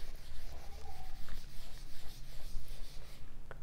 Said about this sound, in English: I'm going to erase this portion to have some more space